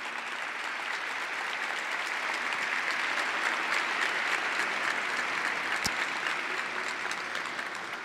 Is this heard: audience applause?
yes